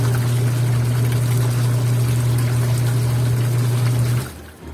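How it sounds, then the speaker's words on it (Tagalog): Water from a clogged washing machine drain gushes out in a steady, loud pour, a continuous rushing flow that cuts off abruptly near the end, leaving only faint residue. "Ayan natin yung para yung natitirang dumi na mai-flush out natin."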